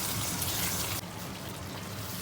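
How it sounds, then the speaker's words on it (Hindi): Water mixed with garlic-ginger paste poured into a chicken karahi, a steady hissing pour that shifts and softens midway, close and alone. "थोड़ा सा इसमें पानी ऐड करेंगे।"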